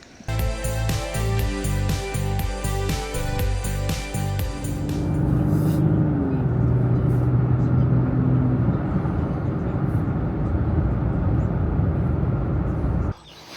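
A car driving up a road past a vineyard on a cloudy morning, giving a steady, loud interior rumble of engine and road noise that stays continuous throughout, with a broadband wash of tire noise.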